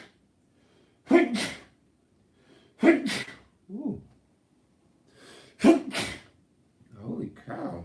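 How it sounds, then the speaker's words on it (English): Four sneezes in a row, each a sharp loud burst separated by about a second or two of quiet, with a short vocal exclamation and breathy sounds between them. "I just sneezed 4 times in a row"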